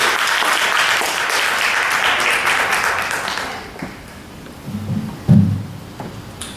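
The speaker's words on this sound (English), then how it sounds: "Let's give him a round of applause as he comes." Audience applause greets a city mayor at a community program in Jackson, Tennessee, dense and steady for about three seconds, then thinning into scattered claps and small knocks.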